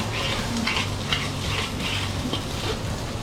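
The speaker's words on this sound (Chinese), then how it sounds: "松它哈，炒熟它一下" Pumpkin stir-fries in a pan with a continuous sizzle, overlaid by repeated scraping strokes of a spatula against the pan in a loose rhythm.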